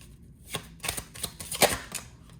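Tarot cards are drawn and flicked from a deck in a few quick, crisp snaps and slides, close and dry with short gaps between them.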